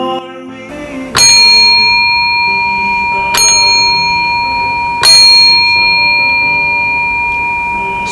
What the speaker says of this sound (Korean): 성종이 울렸습니다.